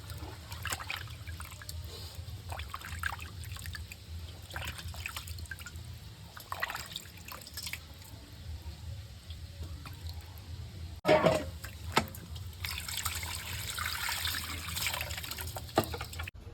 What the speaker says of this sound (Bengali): বন্ধুরা আমার মাছ ধোয়া হয়ে গেছে মাছ পিস করে নিয়েছি ধুয়ে নিয়েছি